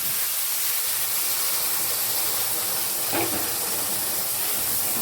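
Boiled sugar water poured into ghee-roasted flour over a high flame for Punjabi karah prasad, giving a loud, steady steam hiss and sizzle that runs throughout, with a brief sharper burst partway through.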